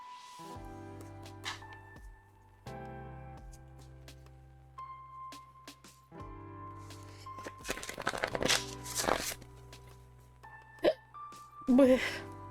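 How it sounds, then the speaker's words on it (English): Hiccups from a person handling decks of cards, brief throaty catches scattered among card shuffling and crinkling, with a louder burst of handling noise in the middle and a couple of clear hiccups near the end. "Darn hiccups."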